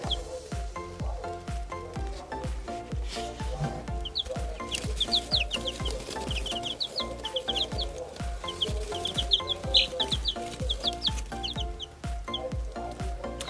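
Backyard chickens cluck and peep around their coop in a steady stream of short, high calls. A busy pattering backdrop runs underneath.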